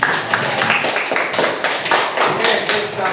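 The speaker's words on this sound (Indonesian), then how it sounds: "Oke, tepuk tangan." A mathematics class claps together in a room, a brisk, close run of uneven hand claps with distinct bursts and thuds, loud and without talk.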